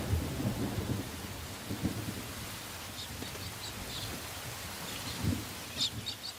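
Steady heavy rain falls across the open Australian interior as a vast inland rain depression sweeps through, with low rumbles of thunder rolling in the distance and faint bird calls breaking through now and then.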